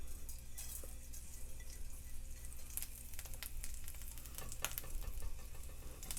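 Whole spices and fennel seeds sizzle in about four spoons of hot oil on a tawa, a faint, steady crackle with scattered sharp pops and no talking.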